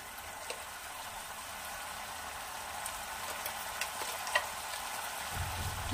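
Mustard paste frying in a pan for Bengali pabda fish curry on a raised gas flame, a faint, even sizzle with a few soft spatter ticks and a low thump at the end.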